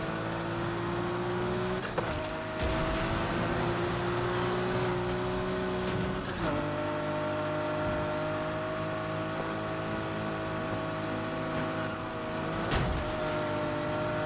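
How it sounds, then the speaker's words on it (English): VW Golf GTI engine in the video game Need for Speed Heat during night racing, a continuous revving drone with rising pitch through gear changes, marked by shifts around a few points, steady and prominent with no talk. "Someone's just rocked up in a VW Golf GTI."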